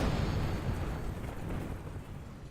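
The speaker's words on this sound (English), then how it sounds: "Pretty explosion, but no, nothing left." A rocket blows up in a space-flight video game, a loud, deep rumbling blast that swells at once and slowly rolls off over a couple of seconds, with no voices.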